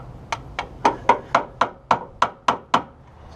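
A hammer taps a part on a VW Rabbit car, nine sharp, close metallic knocks at an even, quick rhythm, with no other sounds.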